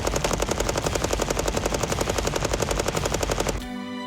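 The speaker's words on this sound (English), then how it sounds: "going to be firing 200 rounds with the gun secured on a tabletop tripod" A tripod-mounted machine gun on a tabletop fires a long sustained burst of about nine rounds per second, loud, rapid and evenly spaced, then stops abruptly near the end with a ringing tail.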